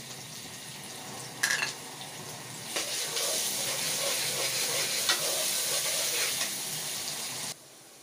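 Steady sizzling of onion, garlic and ginger frying in a pan, close and continuous, with a brief clatter of stirring near the start before it cuts off.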